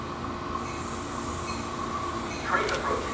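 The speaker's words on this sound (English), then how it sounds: "Shoreline East 3638 arrived with cab car 1701 and ex-Amtrak" A Shoreline East train, number 3638 with cab car 1701, rolls into a station with a steady rumble, and a short wheel squeal rises near the end.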